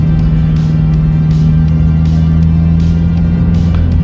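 Loud, steady engine drone inside a moving Honda car, with constant road and tire noise and faint periodic thumps.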